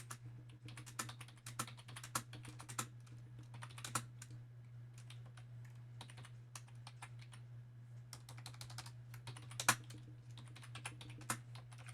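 Data values typed on a computer keyboard: quiet, irregular bursts of key clicks over about twelve seconds with short pauses between runs, alone against a steady low hum.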